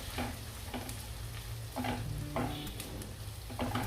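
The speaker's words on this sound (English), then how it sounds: "Allow the onion to become brown." Finely chopped onion frying in a pan with a steady, close sizzle, while a spoon stirs it with rhythmic scraping strokes roughly every half second.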